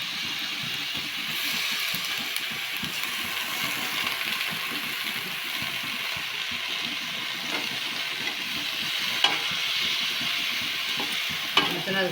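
Spinach fries in oil in a pan for a Telugu spinach-and-onion curry, a moderate continuous sizzle with soft stirring scrapes and two sharp clinks near the end, no one speaking.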